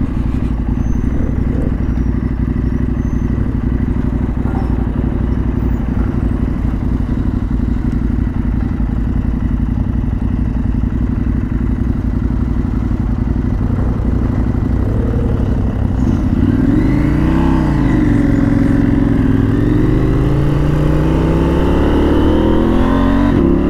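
A KTM 890 motorcycle ridden off-road on dirt in South Africa, its engine droning steadily and close throughout, with the pitch rising and wavering in the final seconds as the rider revs and accelerates.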